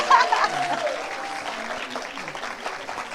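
An audience at a talk on artificial intelligence applauds with dense, steady clapping that fades slightly over a few seconds, with a brief voice or chuckle near the start.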